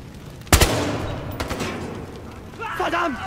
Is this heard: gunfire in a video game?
yes